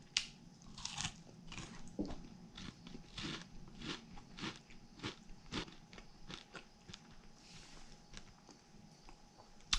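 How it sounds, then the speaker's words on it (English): A crunchy keto krispie treat made with marshmallow is bitten and chewed close to the mic, a rapid run of crisp crackling crunches that softens into quieter chewing. "Great crunch, just like a Rice Krispie treat."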